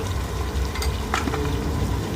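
Cumin frying with garlic ginger paste in hot oil, a loud, steady close sizzle with a brief stir scrape partway through, no talking.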